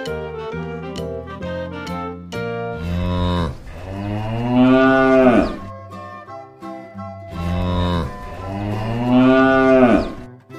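A cow moos loudly and close by, with two long drawn-out calls following a few shorter lowing sounds.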